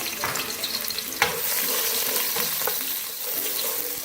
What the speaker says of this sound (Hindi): ऑयल गर्म हो चुका हुआ है। इसमें प्याज शामिल करेंगे, स्मॉल साइज का एक प्याज है।